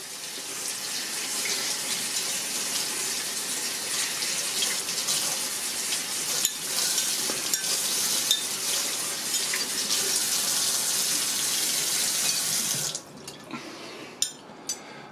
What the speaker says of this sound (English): I'm going to rinse all that salt off now